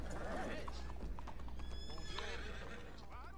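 A horse whinnies amid clopping hooves outdoors, fairly faint against steady background noise, with people talking over it.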